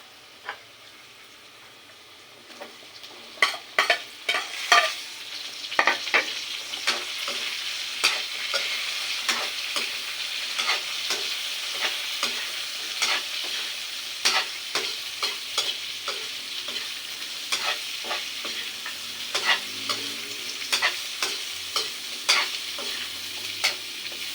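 A spatula stirs papaya for ginataang papaya with tilapia in a frying pan, giving repeated scraping strokes over a steady close sizzle, with no talking.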